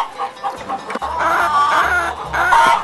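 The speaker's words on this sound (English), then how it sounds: "Chicken." A chicken on a pig farm clucks in a quick series of close, fairly loud calls, with no talk over them.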